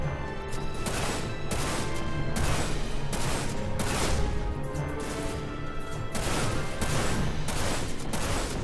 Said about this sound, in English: these are some crap rocket launchers